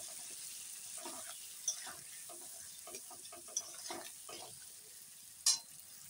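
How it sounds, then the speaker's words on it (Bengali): Ground cumin, coriander and chili paste sautéing in a pan for a rohu fish curry, a soft steady sizzle with faint stirring scrapes and a few sharp clinks of a utensil against the pan. "দেখো মশলা কি সুন্দর কষানো হচ্ছে।"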